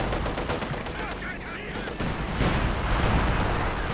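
Anti-tank gun fire strikes a Panzer IV in the Company of Heroes 2 battle game, a dense barrage of loud, overlapping shots and impacts that builds toward the end.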